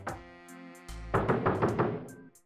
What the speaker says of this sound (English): if you switch this to the normal door and you knock on it